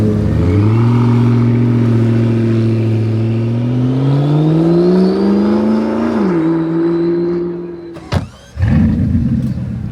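A Ferrari Monza SP2 engine roars loudly nearby, its deep tone climbing steadily as revs rise, then dropping briefly before a sharp crack and a renewed burst of exhaust noise.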